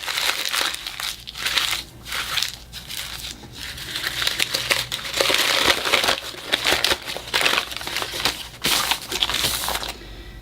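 A paper bag is crumpled by hand to wrinkle it for an art journaling project, heard up close as loud, continuous crinkling and crunching in repeated bursts with brief pauses between squeezes.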